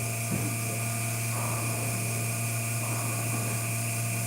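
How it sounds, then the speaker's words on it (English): Power drill boring a hole into a bowling ball, a steady high whine running continuously with constant pitch, close and fairly loud throughout. "Never seen a bowling ball being drilled before."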